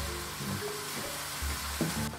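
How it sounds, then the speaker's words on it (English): Garlic and onions sauté lightly in hot olive oil, a soft steady sizzle with a few faint clinks from the pan, close and alone without talk. "we're going to start over here by flavoring up that oil with the garlic and the onions. A nice light saute"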